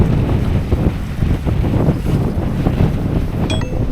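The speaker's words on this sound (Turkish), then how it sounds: "rüzgar arttı" Steady roaring wind at sea buffets the microphone aboard a sailing boat over rushing water, a continuous blustery rumble with a faint tonal ping near the end.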